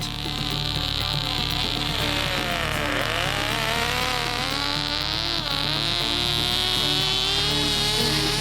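A small moonshine-fuelled piston engine, running on 90% proof spirit, drives a prototype toy train, giving a loud, steady high-pitched buzzing drone that wavers slightly in pitch throughout with no pauses.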